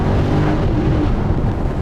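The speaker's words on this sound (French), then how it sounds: "Et il est sonore l'échappement, hein." A 2022 Mercedes SL63 AMG V8 exhaust roars loud and close in a steady, dense blast of low rumble, with no voices.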